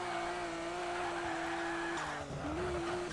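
A 1500-horsepower race car on slicks is held at full throttle while drifting in Real Drift, a steady, loud droning engine note that dips briefly, then climbs back with faint tire noise.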